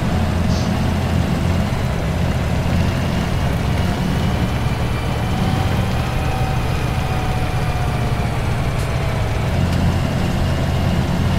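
A tractor engine idles in Farming Simulator 17, giving a steady low rumble that runs unchanged through the clip, heard close and fairly loud without any speech.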